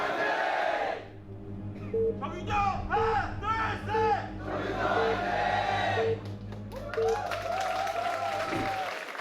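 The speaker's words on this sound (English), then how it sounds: "Crowd doing the cheers correctly." A large esports crowd at a StarCraft league match cheers in a rhythmic chant, repeated unison shouts rising and falling over a continuous roar, loud and close, with whoops in the final seconds.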